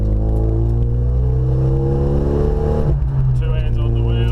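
A car on a racetrack accelerates hard with a loud, steady engine drone from inside the cabin. Partway through, the pitch drops briefly as it shifts up into fourth gear, then it climbs again.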